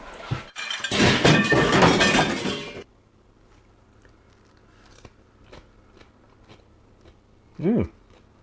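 Loud crunching bite into a crunchy burger pickle at the start, followed by quieter chewing clicks and a brief vocal sound near the end.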